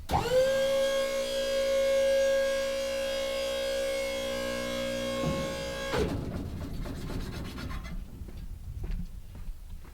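A hydraulic pump raising a Buyers Products Dumper Dogg dump insert whines steadily at a loud, even pitch, then cuts off into softer mechanical rumbling and clunks.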